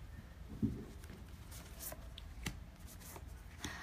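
Quiet, soft riffling and tapping of tarot cards being handled and shuffled, with a few sharper snaps and slaps at intervals.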